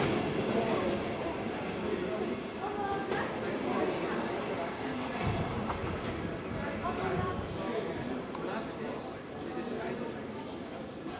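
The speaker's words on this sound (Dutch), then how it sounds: "Een treinstel gaat op weg richting Rotterdam." A Dutch train set pulls away at Roosendaal station toward Rotterdam, a steady low rumble of rolling stock with rhythmic track clatter, moderately distant beneath continuous talk.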